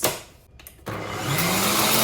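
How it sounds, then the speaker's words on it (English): An electric kitchen blender whirs loudly and continuously as it blends rice and water into a paste for a face mask, starting up after a brief moment of quieter rattling. "Let's blend this."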